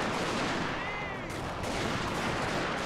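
Matchlock gun units firing in the Total War: Shogun 2 strategy game, a dense crackle of distant volleys over steady battle noise, with no talk.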